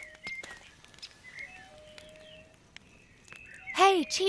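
Bird character Cheep Cheep chirping in The Book of Unwritten Tales adventure game: a short burst of bright, rising tweets near the end, over faint game ambience and soft background talk.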